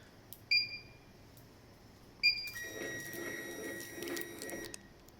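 A Rainbow embroidery machine powers on with two short electronic beeps, then its head travels to the left with a soft motor whir and steady tonal whine for a couple of seconds, quiet and close.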